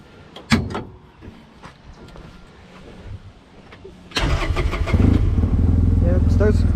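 A 2017 Arctic Cat Wildcat Trail Limited side-by-side with a Super ATV long-travel kit turns over and fires, its engine settling into a loud, steady idle close by after a few quieter knocks and clatters.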